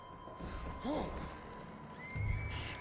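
A horse in the video game Red Dead Redemption 2 gives a short, fairly faint whinny about a second in, followed later by a dull hoof thud, with no talking over it.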